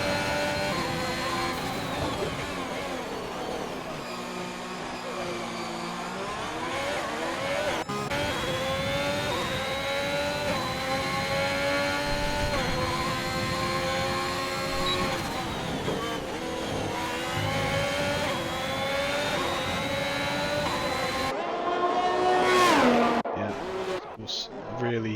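F1 race cars on track in the game F1 2021 at Canada, soft tyres in qualifying, scream through rising and falling high-pitched engine whines and gear shifts, near and continuous, with a commentator talking over them.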